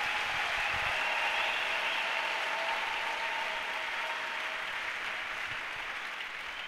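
A church congregation applauds together in a steady, dense wash of clapping that holds strong and fades slightly toward the end.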